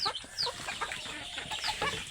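A desi (native) chicken clucks repeatedly in short, close bursts, with a few higher squawks mixed in.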